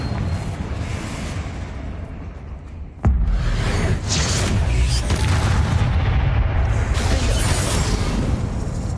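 A Confringo fire-blast spell from Hogwarts Legacy bursts as a sudden loud boom partway through, followed by sustained rumbling, crackling game noise filling the rest of the stretch, with no voice over it.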